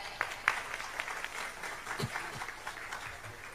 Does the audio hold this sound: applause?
yes